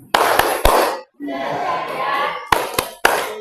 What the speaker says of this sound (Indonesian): Oke, kita tepuk semangat. Tepuk semangat.